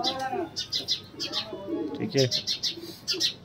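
A pair of pink-beaked Kalanch border pigeons, giving soft coos and light chirping calls close by, heard under someone speaking.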